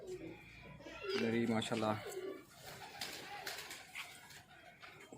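Kalnoke breed pigeons coo in a close, soft burst of throaty calls, with someone speaking over and between them.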